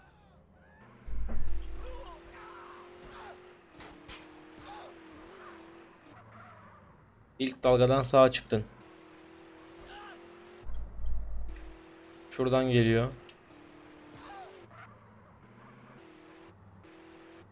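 Car driven in the video game Grand Theft Auto San Andreas, with engine hum running throughout and several loud bursts of revving or skidding, while people talk over it.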